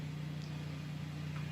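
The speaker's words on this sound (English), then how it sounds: "That's a generator, not my generator." A generator drones steadily in the background, a low, even mechanical hum with no talking over it.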